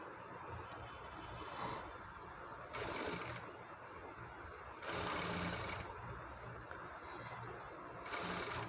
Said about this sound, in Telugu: మెల్లిగా చూసుకుంటూ ఇది స్టిచ్ చేసుకోవాలండి